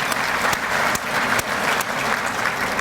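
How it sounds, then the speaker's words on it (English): An audience at the Bay Area Chamber of Commerce's annual State of the Community luncheon applauds steadily and fairly loudly for the whole stretch, a dense, even wash of clapping hands without voices. "So give a round of applause again"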